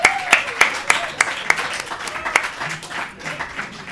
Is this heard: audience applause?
yes